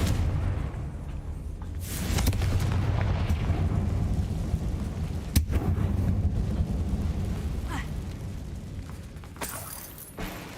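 Booming magical blast from a Confringo spell in a video game, a dense rumbling explosion with sharp bursts at intervals, loud and sustained with no talk over it.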